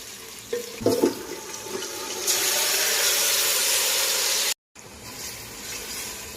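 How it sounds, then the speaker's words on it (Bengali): Onions frying in oil for chicken biryani: after a few light knocks, a loud, steady, rushing sizzle starts abruptly and holds, cuts out for a moment, then returns more quietly. "বিরিয়ানির জন্য আজকে পেঁয়াজগুলো ফ্রাই করতেছি।"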